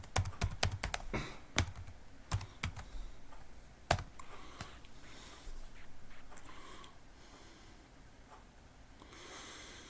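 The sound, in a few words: typing a password on a computer keyboard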